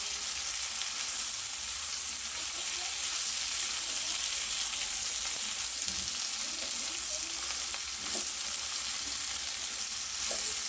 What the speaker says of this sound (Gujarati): એકદમ હલકા હલકા હાથે મિક્સ કરીશું જ્યાં સુધી આપણે ભીંડા સરસ તેલમાં મિક્સ કરી દઈએ